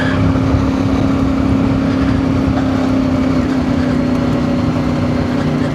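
A CF Moto Ibex 450 parallel-twin motorcycle engine lugs at about 2,000 RPM on a mountain road, giving a steady low drone with wind rush and no break for the whole stretch.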